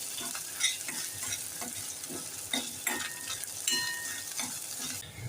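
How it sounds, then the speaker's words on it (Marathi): Ginger garlic paste sautéing in a pan for veg masala Maggi, a steady sizzle broken by frequent scraping stirs of a spoon against the pan, close and moderately loud, with no talking. "आता आपण टाकूया थोडीशी आलं लसूण पेस्ट ती सुद्धा परतून घेऊया"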